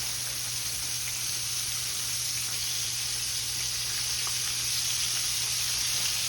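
Oysters and shrimp frying in a pan of hot oil for golden, crispy seafood, a steady loud sizzle with crackling pops throughout and no voices.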